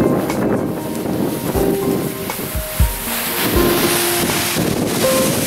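Gusty wind buffets loudly and continuously, with rumbling low thumps and faint tonal squeaks mixed in; no talking.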